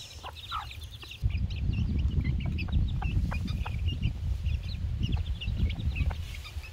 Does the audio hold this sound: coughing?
no